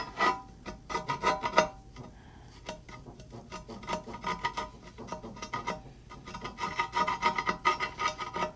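A tool scrapes Citristrip-softened finish off cast iron parts in short, rasping strokes that come in bursts, close and fairly quiet, with brief pauses between passes and no talk.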